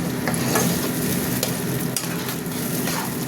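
Spice masala for malai chicken fries and is stirred in a pan, a close, steady sizzle with soft scraping and occasional spatter, no talking.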